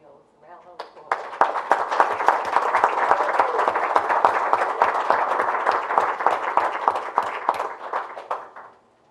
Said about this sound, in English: I think she owes a round of applause.